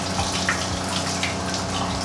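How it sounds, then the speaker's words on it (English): Hot water runs steadily from a tap in a lunch trailer, a constant close splashing rush with no talking over it. "let the hot water run."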